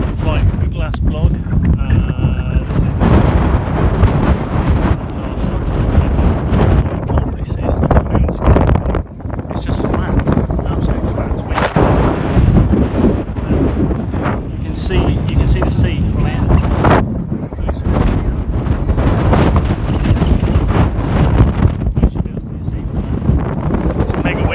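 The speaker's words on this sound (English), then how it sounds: "Mega windy" Strong wind on a downhill hiking stretch buffets the microphone in a constant loud roar throughout, with a person talking intermittently beneath the gusts.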